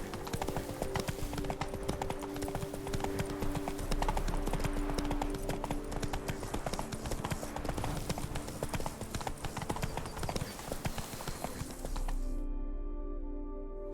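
Roach, the horse in The Witcher 3 Blood and Wine, galloping with a steady, dense clatter of hooves under continuous game music and ambience, close and loud, cutting off near the end.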